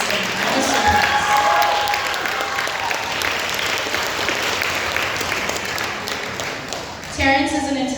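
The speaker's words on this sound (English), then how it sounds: "give Terrence a round of applause for playing the piano for the music competition" An audience at a school class-of-2026 brunch applauds steadily for about seven seconds. The clapping is dense and even, a few voices murmur beneath it, and it fades out as a voice begins.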